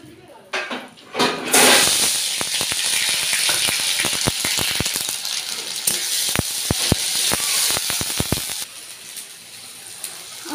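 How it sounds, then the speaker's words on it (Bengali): Onions drop into heated oil in a pan for a mutton curry, setting off a sudden loud sizzle that hisses on steadily under brisk spatula clicks and scrapes, then eases near the end. "চলো পেঁয়াজটা ভাজা বসিয়ে দিই।"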